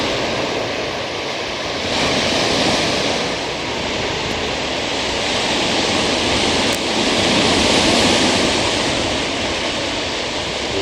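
Waves wash continuously onto a Lake Superior beach, a broad, steady surf roar that swells and eases, with some wind over the microphone and no voices.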